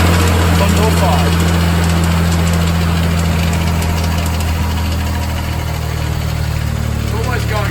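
A car engine runs steadily with a noisy AC pump, giving a continuous loud droning hum with a rattling, knocking undertone throughout.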